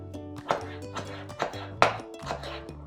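A knife slices tomatoes into pieces, making sharp, evenly spaced chops about twice a second over a sustained tonal background.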